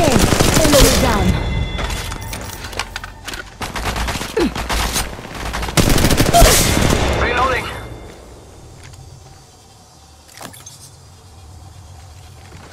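Rapid bursts of gunfire and explosions in Apex Legends played on an iPad, loud and dense at first and then tapering to scattered shots, with voices speaking over the action.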